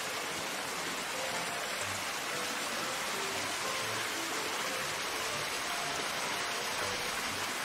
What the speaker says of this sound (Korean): 물소리 참 듣기 좋죠?